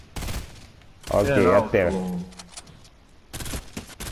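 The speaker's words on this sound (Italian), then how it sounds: "qua c'è gente che spara ancora" Bursts of gunfire in a video game crackle at the start and end, with someone talking in between.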